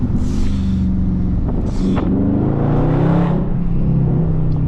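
A Dodge Charger Scat Pack driven hard, its loud exhaust rumbling steadily from inside the car, with a few sharp pops and crackles breaking through the low drone.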